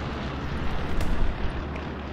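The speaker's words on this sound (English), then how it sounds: "Oh, is that a bombing run?" A bombing run in the Hell Let Loose battlefield sets off a continuous, loud, rumbling roar of explosions that holds steady through the whole short stretch with no gaps.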